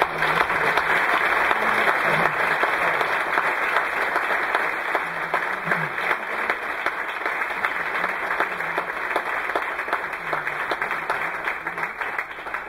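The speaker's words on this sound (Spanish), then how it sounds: "José, un aplauso para esta mesa." Sustained audience applause fills a forum debate hall after a panel, a dense, steady wash of many hands clapping at close range with no break for the full length.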